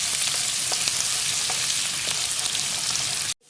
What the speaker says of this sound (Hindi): 2-3 हरी मिर्चें और थोड़ी सी अदरक, ये डाल के मैं इसको हल्का सा फ्राई करती हूँ।